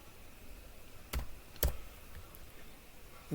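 A few sparse keystrokes on a computer keyboard while entering student height data into a web form, two distinct clicks standing out over quiet room noise.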